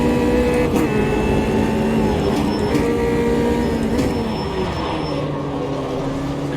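A race car in Automobilista 2 downshifts to third gear on the 2017 Brasil track, the engine note stepping down through sustained harmonic whine with brief blips at each shift, loud and close.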